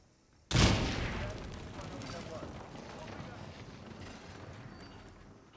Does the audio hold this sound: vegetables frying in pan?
no